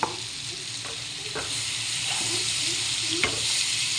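Spices sizzling and being stirred in a pan for a Bengali dish, a constant bright frying hiss with a few soft spoon scrapes spaced through it; no voices.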